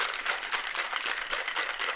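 Ice rattling inside a cocktail shaker with cream of coconut for a piña colada mocktail, a dense, steady shaking that runs without a break for about two seconds, fairly close and with no voices over it.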